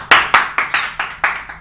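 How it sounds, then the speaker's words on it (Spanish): Several hands clap in a loose, uneven rhythm, about eight sharp claps in under two seconds, close and fairly loud, with no talking. "¡Las palmas!"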